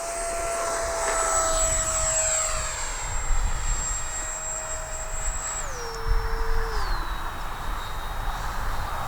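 A HobbyZone Arrows RC F-86 model jet flying overhead gives a steady whining electric ducted-fan tone that drops in pitch twice as it passes and moves away, over outdoor ambience.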